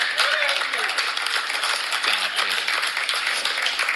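A studio audience applauds and cheers after a joke, a dense burst of clapping with scattered voices mixed in, steady for a few seconds.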